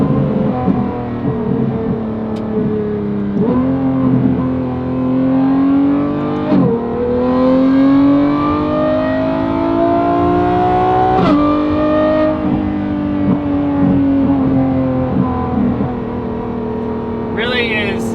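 A Lamborghini Revuelto fitted with a Valvetronic Designs race exhaust, revving hard past 9,000 RPM with a shrill, high-pitched wail that rises and drops through several pulls, loud and close throughout.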